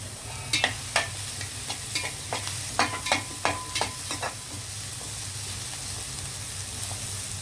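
Green chillies, curry leaves and coriander frying in a pan, a soft continuous sizzle under a burst of sharp spoon scrapes and clinks that taper off, heard up close without voices.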